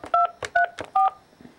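Three distinct telephone keypad tones beep in quick succession as a voicemail password is entered on the phone system, clear and close, with faint movement noise in between.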